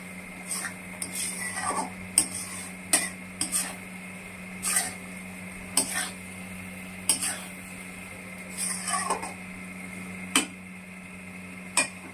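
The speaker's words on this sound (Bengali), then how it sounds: "এভাবে অনবরত নাড়াচাড়া করতে হবে" A spoon scrapes and taps at irregular intervals as pointed gourd (potol) curry with yogurt and cashew paste is stirred in a pan, quiet clicks over a soft, steady background hum.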